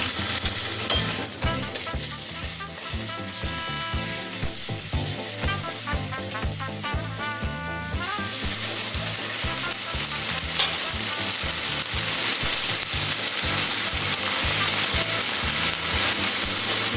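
Ginger-garlic paste sizzling loudly in hot oil with fried onions for chicken do pyaza, with steady frying hiss and repeated scraping stirs of a spatula throughout.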